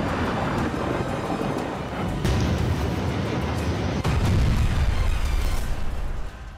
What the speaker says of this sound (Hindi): बम, गोला बारूद के साथ किलर मिसाइलों से भी विस्फोटक प्रहार किए।